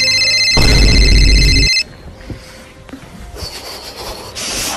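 A telephone gives one loud, close electronic ring burst, then falls quiet, leaving soft room noise and a faint tone.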